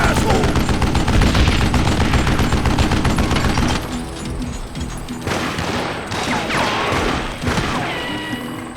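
Dense, loud gunfire from the Wild West shooter Call of Juarez: Gunslinger, rapid overlapping shots and crashes for the first few seconds, then sparser bursts, with a voice talking over parts of it.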